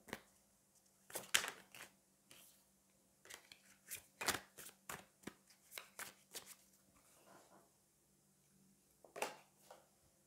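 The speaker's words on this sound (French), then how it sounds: "Je prends une dernière carte du tarot." Tarot cards shuffled and drawn by hand at close range: several quick riffling bursts and soft snaps, then sparse light card slaps and slides, with a final burst near the end; no one speaks.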